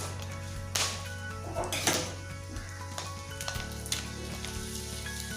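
Mustard seeds and urad dal sizzle in hot coconut oil for a tender jackfruit thoran, a close, bright frying crackle with sharp pops and utensil clinks and stirring scrapes.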